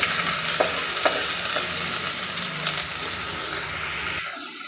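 Half an onion fries in hot coconut oil with a strong, continuous sizzle up close, a few scraping stirs, and the sizzle drops away sharply at the very end.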